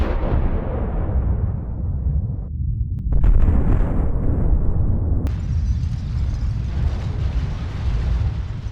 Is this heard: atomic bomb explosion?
yes